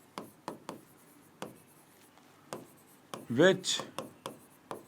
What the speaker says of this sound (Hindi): पहले डेफिनेशन लिखते हैं